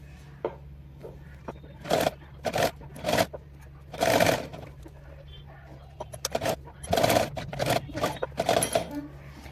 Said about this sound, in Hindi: अब आपको इस पट्टी को हल्का हल्का खींचते हुए पूरे में सिलाई लगाते जाना है।